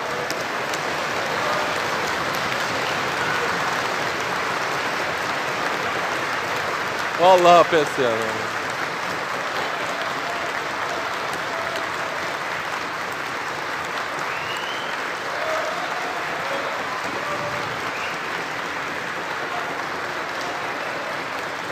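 Sustained applause and crowd noise in the Istanbul Metropolitan Municipality council chamber during a heated session, dense clapping throughout with a brief louder voice partway through.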